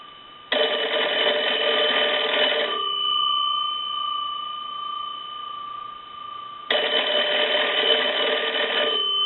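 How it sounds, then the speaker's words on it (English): Two bursts of rapid, metallic bell ringing from a Kellogg wood wall crank telephone, each lasting a couple of seconds, separated by a quiet pause with a faint steady hum. "Bells have a very nice sound to them."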